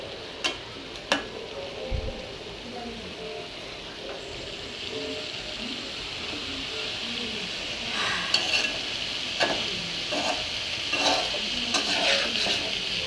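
Taro stems (kochu lota) cooking with jackfruit seeds and koi fish in a pan: a steady broad sizzle of frying throughout, with a few sharp clinks of a utensil against the pot, close and moderately loud, no talking.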